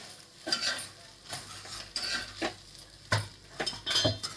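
A spoon stirs garlic masala okra (bhindi) in a pan, with repeated scraping and clinking strokes against the metal at an irregular rhythm over a light sizzle.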